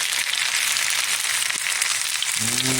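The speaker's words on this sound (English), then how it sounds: "Good little sizzling action going on here." Steady, bright crackling sizzle of potatoes frying in hot butter with spices, close and continuous, with a faint low hum near the end.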